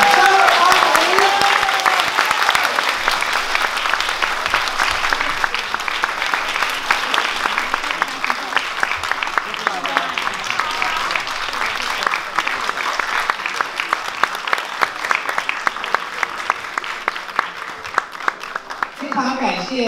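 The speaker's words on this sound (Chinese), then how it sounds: "掌声欢迎" A lecture audience at a Taiwan Tradition Foundation event claps loudly and steadily for about twenty seconds to welcome the Taipei mayor. A voice is heard briefly at the start and the end.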